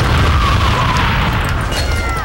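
A smart bomb item goes off in Super Smash Bros. Brawl, a loud, sustained blast with a crashing roar and a faint whistling tone over it, lasting a couple of seconds without speech.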